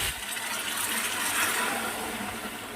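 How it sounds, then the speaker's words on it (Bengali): Hot water poured into a pan of spicy chicken curry, a continuous rushing, gushing pour heard close and fairly loud for nearly three seconds with no voices. "এই যে দেখো গরম জল করছি, এটা দেবো।"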